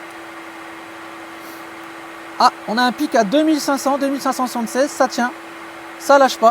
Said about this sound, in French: Et si je monte le sèche-cheveux